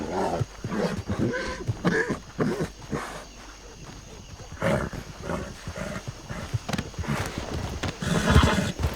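A horse in the RedM game neighs repeatedly while its hooves clip-clop in uneven bursts. Sharp, loud snorting cries stand out near the start and end over a busy background.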